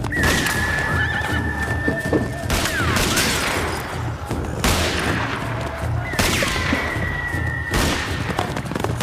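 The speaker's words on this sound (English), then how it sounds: "On the horse!" Horses whinny loudly several times amid galloping hooves, rifle shots and shouting in a Western outlaw confrontation.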